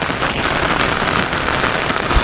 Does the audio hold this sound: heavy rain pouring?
yes